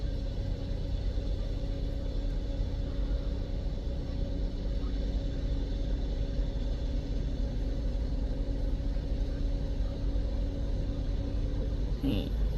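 Steady low engine rumble and road drone from inside a moving vehicle, constant and unbroken throughout.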